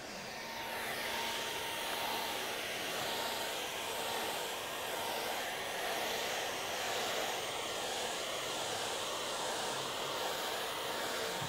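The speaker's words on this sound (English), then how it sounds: "Claire, hair dryer, quick." A hair dryer blows steadily at maximum power, a constant broadband whoosh with a faint motor whine, running without a break.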